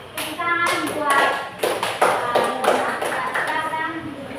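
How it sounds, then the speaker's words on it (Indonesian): Classroom clapping for a student group, a rhythmic patterned clap with distinct beats and pauses, close and fairly loud, with children's voices and talk mixed in. "Tepuk tangan buat kelompok 4."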